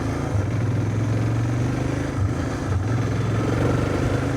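A motorcycle rides along a Hollywood street, its engine droning steadily and close with a low continuous rumble and no talk.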